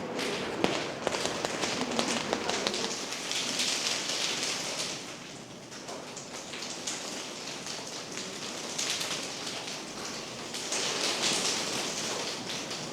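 A group of students imitates the patter of rain with a dense, continuous hiss of taps and clicks that swells and fades in waves, with no talking.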